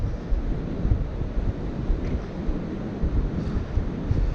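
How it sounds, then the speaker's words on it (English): Strong gusty wind blows outdoors where a small drone flies, a dense low roar and buffeting against the microphone with repeated surges, loud and continuous with no voices. "But of course the breeze is stronger."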